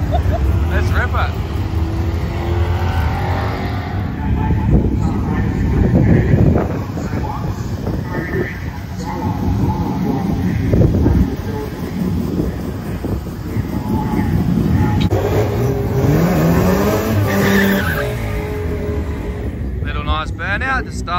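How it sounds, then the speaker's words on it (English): Mazda RX3 drag car at a dragway doing a burnout, a loud sustained engine roar with tire noise that holds steady for about twenty seconds, with voices partly underneath. "Burnout to start with."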